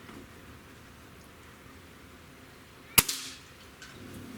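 A single sharp crack from a Stoeger AT30 air rifle firing near the end of a quiet stretch of steady background hiss, followed by a brief fading echo.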